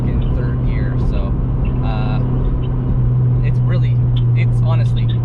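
Turbocharged K20 engine in an 8th-generation Honda Civic Si with a PRL turbo kit, heard from the cabin as a steady droning road rumble with a rising tone, while a person talks over it.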